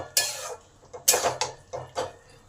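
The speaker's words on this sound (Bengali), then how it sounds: "গরম মশলাটাকেও ভালো করে এই তরকারির সঙ্গে মিশিয়ে দিই।" A spoon stirs garam masala into a squash and potato curry, scraping and clanking against the metal pan in four or five distinct strokes, close and clear with no voices.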